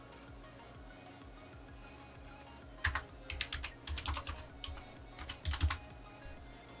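Keystrokes on a computer keyboard while an online sign-up form for Axxess fibre internet is filled in: sparse clicks at first, then several quick bursts of close, fairly soft typing, with no voices.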